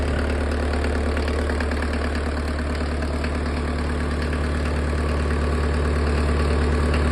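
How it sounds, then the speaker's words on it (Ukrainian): A Mercedes OM601 2.3-litre diesel engine drives a PN-40 irrigation pump, running steadily at idle with a constant loud low rumble and knocking chatter for the whole stretch, with no voices over it. "Насос дує нормально."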